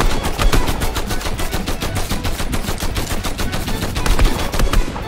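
Rapid, continuous bursts of automatic gunfire rattle on for several seconds, loud and dense, like a sustained firefight in a game.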